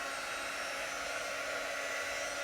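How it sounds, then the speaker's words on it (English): A hair dryer blows steadily at close range over a freshly applied chalk design, a constant loud whooshing hum with no breaks. "I'm actually going to take my dryer to it, make sure it is good and dry."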